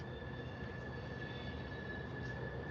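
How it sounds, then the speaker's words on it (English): A nearby train rolls past with screeching wheels. A faint, steady high-pitched squeal rides over a continuous low rumble. "I ain't never heard the train get that close. It's like I can hear the screeching."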